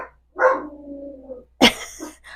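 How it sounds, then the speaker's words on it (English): A dog barks twice nearby, a drawn-out harmonic bark followed by a sharp loud yap, heard alone indoors while lawn work goes on outside. "I'm sorry if you hear him barking."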